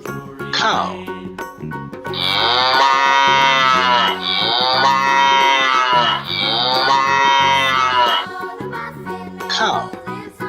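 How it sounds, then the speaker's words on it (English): A cow moos in long, loud, drawn-out calls, two or three in a row, over a steady musical backing with short chimes at the start and end. "Cow."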